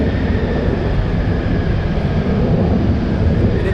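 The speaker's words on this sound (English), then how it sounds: "F-35 now going." An F-35 fighter jet taking off at RAF Lakenheath, a loud, broad engine roar with rumbling low end, steady and close for the whole stretch.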